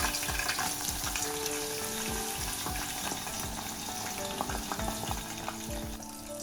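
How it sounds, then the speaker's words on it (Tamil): Eggplant pieces deep-fry in hot oil for a wedding-style eggplant curry with chickpeas, a close, continuous bubbling sizzle with crackling pops throughout, no voices. "இப்ப நான் இந்த கத்திரிக்காயை இதுக்குள்ள போட்டு நல்ல பொன்னிறமா இதை பொரிச்செடுப்பேன்."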